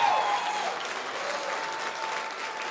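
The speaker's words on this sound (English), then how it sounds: "let's give them one real big round of applause" Sustained crowd applause fills the arena at a county fair's goat and swine showmanship finals, a steady dense wash of many hands clapping at even volume throughout.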